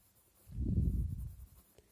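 Someone writes a French sentence by hand, producing a single low, soft scraping stroke sound about a second long in an otherwise quiet room.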